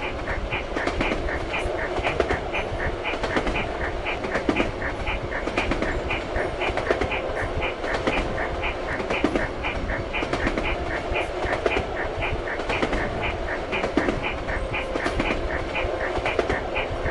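A long train pulling 61 wagons rolls past with a steady, rhythmic clickety-clack of wheels over rail joints, a continuous rumbling bed running throughout at a constant level.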